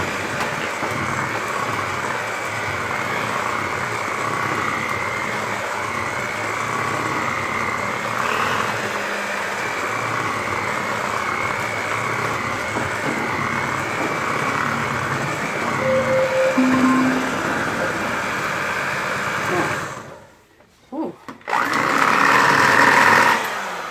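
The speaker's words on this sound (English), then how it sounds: "I'm going to mix this for 2 minutes" An electric mixer beats peaches and cream coffee cake batter with a steady, even whirring drone that runs for about twenty seconds, cuts out briefly, then starts again.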